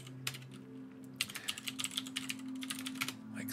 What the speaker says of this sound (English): we'll type in our server address